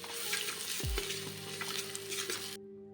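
Finely chopped onion is stirred into oil in a pan, a steady sizzle with scraping, close and continuous before cutting off abruptly.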